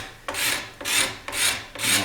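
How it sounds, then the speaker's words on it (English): A hand scraper is drawn along a wooden electric guitar neck in four steady, even strokes about half a second apart, each a bright, close rasping sweep. "we want to get most of the work done here with the scraper"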